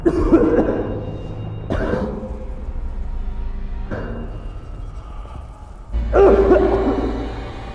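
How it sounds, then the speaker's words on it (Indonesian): A child in a film coughs in four harsh bursts spaced a couple of seconds apart, close and fairly loud, with a low background rumble between them and no speech. "Dia batuk sehingga mengenai wajahnya"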